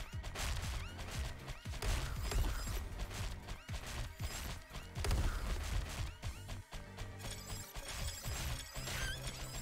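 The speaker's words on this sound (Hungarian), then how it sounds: "Most már elkezdtek lövöldözni is az enemik?" Enemies fire in the arcade shooter Black Widow: Recharged, a dense, continuous barrage of rapid electronic shots and impacts layered over game music and effects, loud and without talk.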